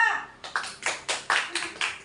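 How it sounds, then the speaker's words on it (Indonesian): Classroom applause for a group of primary-school pupils: a quick run of about eight sharp, evenly spaced hand claps, close and fairly loud, after a brief spoken word. "Tepuk tangan buat kelompok 2."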